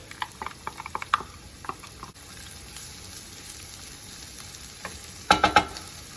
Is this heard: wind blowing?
no